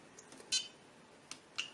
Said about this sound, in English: alarm tone goes from off to single to repeat